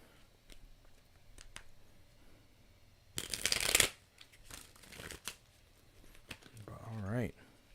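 A deck of tarot cards is shuffled close by in one brisk riffling burst of under a second, with a person talking before and after it.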